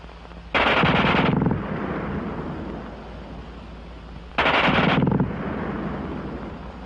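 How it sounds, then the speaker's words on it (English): A WWII German machine gun fires two long, extremely rapid bursts a few seconds apart, loud and close, each followed by a rolling echo tail. "the German gun fires faster than anything you've run into before"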